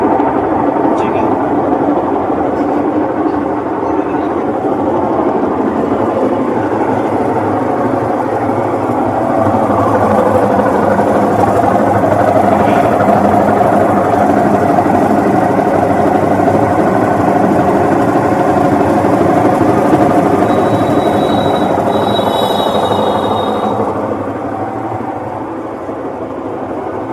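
A Whirlpool top-load washing machine runs its spin dryer with a loud, steady roaring drone throughout, close by and continuous, with speech partly under it.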